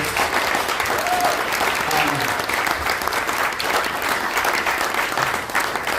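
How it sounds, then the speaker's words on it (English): Audience at a London debate on the Online Safety Bill gives the panelists a loud, sustained round of applause, dense continuous clapping with faint voices beneath it. "We have a really massive round of applause for our panelists."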